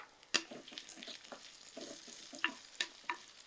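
Onions sautéing in a pan with a soft, steady sizzle, broken by several sharp spatula clicks and scraping strokes as they are stirred, close and fairly quiet.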